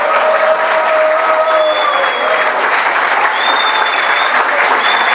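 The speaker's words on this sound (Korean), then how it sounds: "따끈따끈한 북녘의 소식을 전해주신 신은미 선생님께 다시 한번 큰 박수 부탁드립니다." Audience applause at the close of a lecture event, a dense sustained clapping from a crowd filling the room, steady and loud throughout with no talk over it.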